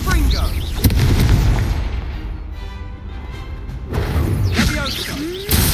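Confringo fire spell blasts in Hogwarts Legacy, with sharp booming impacts at the start and end framing a rumbling, whooshing fiery burst, while voices shout over the combat.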